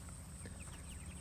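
Free-range chickens cluck softly in the distance, a few faint, scattered calls over a low outdoor background hum.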